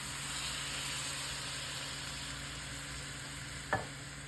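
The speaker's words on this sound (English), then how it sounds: "Let's stir that up" A pot of soup with drained whole kernel corn and undrained Rotel being stirred, a faint steady background hiss with one short scrape of the spoon near the end.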